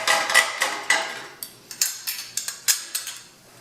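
A home brew keg's metal cap is worked loose and lifted off, giving a close run of about a dozen sharp metallic clicks and clinks at irregular spacing, with no talking.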